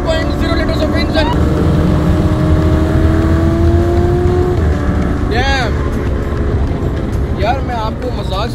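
A 4.0-litre V8 in an Aston Martin roars at high revs, a loud, sustained engine drone running continuously while people talk over it with exclamations.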